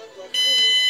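DESI burglar alarm system card sounding, a sudden bright electronic tone that switches on sharply and holds steady and loud after a brief muffled lead-in.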